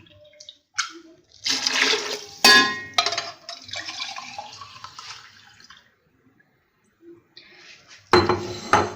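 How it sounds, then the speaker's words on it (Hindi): Chickpea stock (yakhni) being poured into a pot of rice for chana pulao, heard as splashing, gushing bursts of liquid broken up by clinks of the metal pot and a short quiet pause. "जो चनों में से यखनी हमने निकाली थी, वो हम इसमें डालेंगे।"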